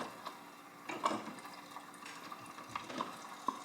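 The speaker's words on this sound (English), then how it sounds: "Now you can hear the water starting to boil because we've relieved the head pressure." Water in the boiler of a Wilesco D20 toy steam engine beginning to boil after the head pressure drops, heard as a faint, low simmering hiss with small irregular pops and bubbling ticks.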